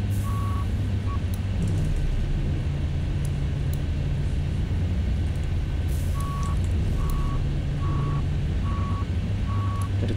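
Jetbus SDD double-decker coach reversing into a parking spot, its reversing alarm giving short, evenly spaced high beeps over the deep, steady idle rumble of the diesel engine.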